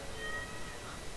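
A cat meows in the farming video game Stardew Valley, a single short, close meow heard alone over a steady soft background of game sound.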